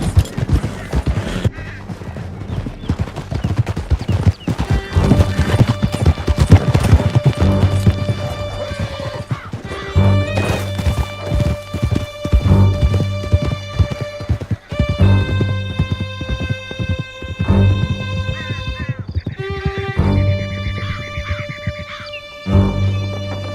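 Horses gallop in Red Dead Redemption 2, with hoofbeats pounding under a loud orchestral score and other busy game sounds during a chase.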